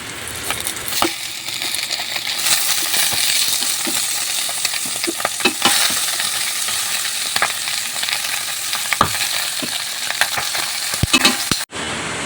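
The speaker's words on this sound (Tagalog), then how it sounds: "Ayan po, at pwede na po natin ibalik yung karne." Pork steak returned to a pan of cooked onions sizzles loudly and steadily while a utensil scrapes and clinks against the metal in irregular strokes, close up with no voices, cutting off abruptly near the end.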